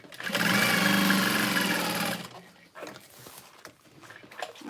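A sewing machine top stitches the folded edge of a handbag, running steadily and loudly for about two seconds before stopping, with quieter handling noises after.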